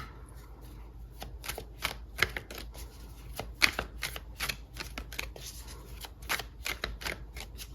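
Tarot cards riffled and shuffled by hand, a steady stream of soft papery slaps and flicks in irregular bursts, close and quiet with no one speaking.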